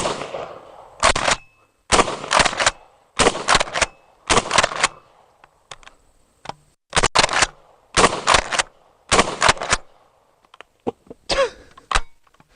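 Smith & Wesson M&P12 pump shotgun firing 2 3/4 inch 8 shot at an outdoor range: about eight loud, sharp blasts in irregular pairs and singles, each cutting off quickly, with short pauses between.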